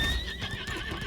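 A horse in the video game Lost Ark gives a short, clear whinny with a wavering high pitch, accompanied by soft hoof clip-clops and faint game background sound.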